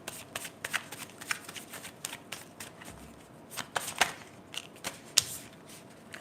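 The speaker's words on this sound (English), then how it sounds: "So let me get one more card for the Emperor energy for Dan." Tarot cards being shuffled and drawn: a run of dry papery riffles and crisp snaps, irregular and close, with quiet rustling between the louder flicks and no voices.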